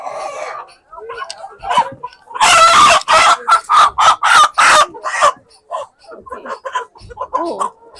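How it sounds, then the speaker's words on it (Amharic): Wolaita chickens at a busy market, with a loud rooster crowing in repeated bursts amid clucking, close up, while people talk nearby. "ወላይታ ዶሮም አለ።"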